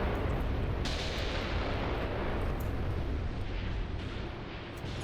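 Artillery firing in the wartime strategy game Graviteam Tactics, heard as a continuous heavy rumble of overlapping blasts, with one sharper boom near the start, fading slightly toward the end, no voices.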